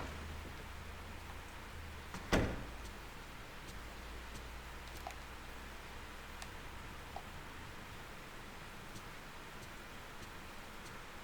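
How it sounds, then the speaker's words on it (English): Rain falls in the horror video game Fatal Frame III. A steady, soft hiss carries on throughout, with faint scattered ticks and one sharp knock near the start. "It's raining again."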